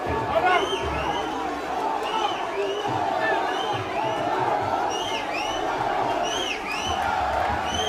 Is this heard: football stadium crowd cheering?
yes